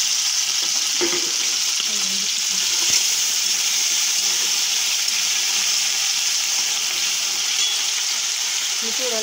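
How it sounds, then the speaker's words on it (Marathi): Potatoes fry in hot oil, a loud, even, close hiss that runs throughout, with a few faint clinks underneath and no clear voices. "आपलं तेल तापलं की बटाटे टाकते."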